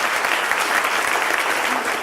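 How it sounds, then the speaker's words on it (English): A crowd at an outdoor King's Day celebration in St. Martin applauds a youth drum band leader, a dense, even wash of clapping held at steady loudness throughout. "So let's give him a round of applause."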